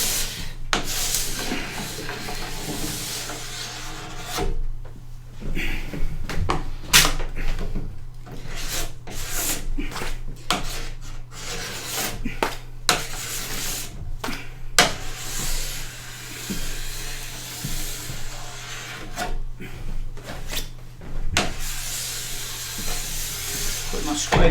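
A scraper drags along a snowboard base, pulling off hot wax and grime in repeated, close, rasping strokes separated by short pauses, with no talk over them.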